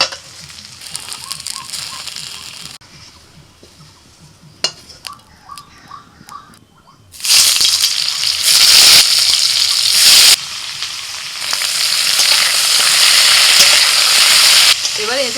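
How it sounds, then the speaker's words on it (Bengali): Boiled young jackfruit drops into hot oil and breaks into a loud, steady crackling sizzle that keeps going to the end. The first half is a quieter kitchen with light clatter and a few soft clinks. "প্রথমে এঁচোড়টা একটু তেলের মধ্যে ভেজে নিচ্ছি"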